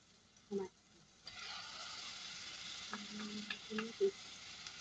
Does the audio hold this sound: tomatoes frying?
yes